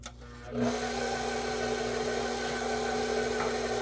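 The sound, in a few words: electric mixer mixing pound cake batter on first speed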